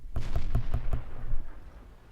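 A rapid string of about five deep booming cannon-like blasts in a World of Tanks battle near a T57, evenly spaced and loud, with a rumbling tail as they die away.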